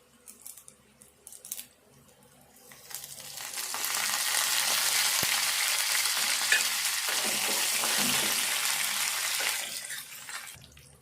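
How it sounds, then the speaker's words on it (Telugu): A tempering of garlic, dried red chillies, chana dal and curry leaves hitting hot oil, a few quiet clinks, then a loud continuous sizzle swells up and holds for several seconds before fading out. "తాలింపు ఇట్లా వేగినాక"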